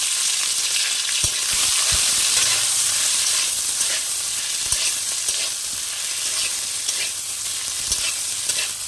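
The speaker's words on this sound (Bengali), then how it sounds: "এখন এই তেলের মধ্যে আলুটা দিয়ে দেবো দিয়ে একটু ভেজে নেব" Boiled potato pieces frying in hot oil, a loud, continuous hissing sizzle close up, with occasional soft knocks and scrapes of a spatula stirring through the pan.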